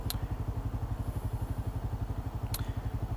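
A motorcycle idles at a traffic light, its engine thrumming in a steady, rapid low pulse close by, with a couple of brief high clicks over the top.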